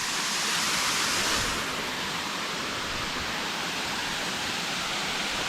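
Kaijoda waterfall in Keonjhar roars as a dense, steady rush of falling water, loud and continuous with no breaks.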